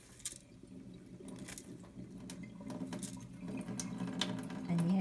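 Water runs and splashes softly as it is drained from washed rice in a home kitchen, a quiet continuous trickle that grows slightly louder toward the end.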